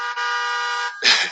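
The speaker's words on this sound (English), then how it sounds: "Got some honks for that." Car horns honk in a long steady blast lasting most of a second, then a brief break before a burst of cheering and noisy crowd sound, loud and close.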